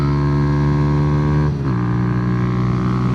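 Small motorcycle engine held near redline at full throttle, a loud, buzzy harmonic whine that dips and shifts pitch briefly before steadying, close and alone.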